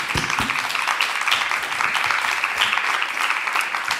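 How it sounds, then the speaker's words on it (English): A round of applause from an audience after a Q&A event, a full, even wash of clapping that holds steady and loud throughout. "Really like to a round of applause"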